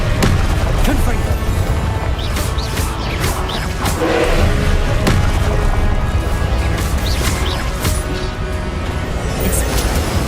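Confringo explosive spell cast in the video game Hogwarts Legacy, a run of crashing, smashing bursts and thuds repeating over ten seconds amid busy game effects, with speech mixed in.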